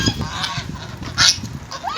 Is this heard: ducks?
yes